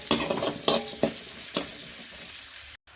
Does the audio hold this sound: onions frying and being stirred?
yes